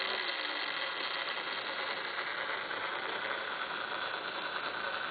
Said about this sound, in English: speed of DC motor is decreasing and displayed on LCD 16:2 matrix